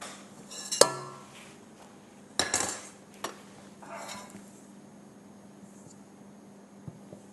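Tiramisu batter is slowly folded in a bowl: soft scraping punctuated by a few sharp utensil clinks against the bowl, spaced irregularly over a quiet background.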